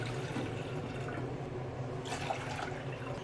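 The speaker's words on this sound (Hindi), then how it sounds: "तो सबसे पहले मैं इसमें पानी ही ऐड करूँगी 4 कप।" Four cups of water go into a cooking pot to start sugar syrup for gulab jamun, a steady, close liquid pour with gentle splashing that runs throughout.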